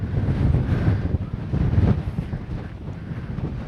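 Strong wind buffets the microphone on a hilltop summit during a hill trek, a loud, low rumbling roar with gusty surges and no voices.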